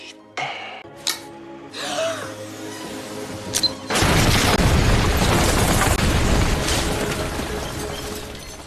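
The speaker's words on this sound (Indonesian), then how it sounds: "Untungnya ledakan itu tidak sampai meluas" A sudden loud explosive boom erupts after a few quieter sounds, followed by a sustained rumbling roar that slowly fades.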